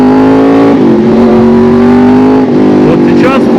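A Yamaha R1 litre-class motorcycle accelerating to overtake, its engine a loud close steady drone that rises in pitch after a brief dip, with a voice talking over it.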